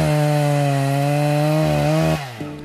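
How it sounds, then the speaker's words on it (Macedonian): Close, loud chainsaw felling timber in the Kitka forest, a sustained high-revving engine drone that dips slightly before cutting out abruptly near the end, followed by a brief idle sputter. "најчест е звукот на пилата"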